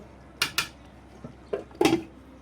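A cooking pot lid is lifted off a simmering pot of beef and potato curry, with a few sharp metallic clanks and scrapes of lid against pot rim.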